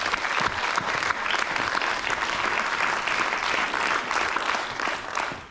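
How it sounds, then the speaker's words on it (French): An audience at a flamenco performance event applauds steadily, a dense and even wash of many hands clapping for several seconds with no talk. "Et je vous demande de l'applaudir."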